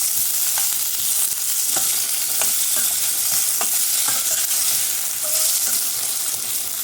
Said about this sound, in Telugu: వీటిలన్నిటినీ కూడా ఫ్రై చేసుకోవాలి